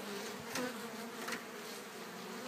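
Honeybees from a package swarm buzz steadily and continuously, a dense close hum with brief louder swells as individual bees fly near, during installation into a top bar hive.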